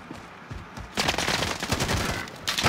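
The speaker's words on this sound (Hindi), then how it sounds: "ये तो एलएमजी चला रहा है" An LMG light machine gun fires in Call of Duty Warzone, a few scattered shots at first and then a long, loud, sustained burst of rapid fire, pausing briefly before opening up again.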